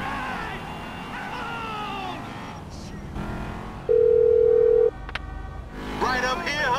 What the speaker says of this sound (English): hit me on the speakerphone, Law.